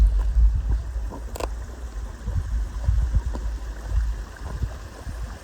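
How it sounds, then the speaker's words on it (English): A small creek running beside the Appalachian Trail, a low steady wash of flowing water with faint gurgles, continuous and close, with no one talking. "Nice little creek."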